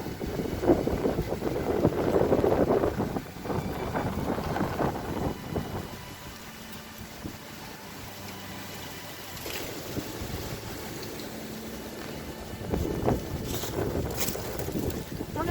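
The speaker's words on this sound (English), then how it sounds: "It's a very windy day today." Gusty wind roars and buffets the microphone in uneven waves, easing for a while before surging loud again.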